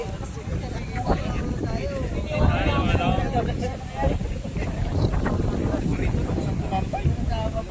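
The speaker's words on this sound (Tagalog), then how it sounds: "Mahangin." Strong wind buffets the microphone on a boat ride at sea, a steady rushing roar with gusts swelling and easing, mixed with water and engine noise throughout.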